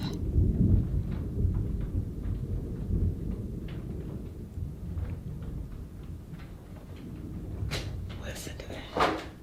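Deep rolling thunder from a thunderstorm, a long low rumble that swells and fades, with soft ticks and small knocks on top and a louder sharp crackle near the end.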